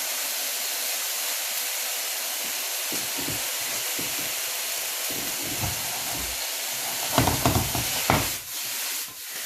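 Fajita meat frying in a pan, a steady close hiss and sizzle that runs throughout, with a few louder crackling bursts toward the end.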